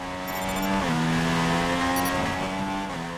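A Renault Formula 1 car in the F1 2016 racing game screams at high revs, a loud continuous engine whine that dips briefly at gear shifts.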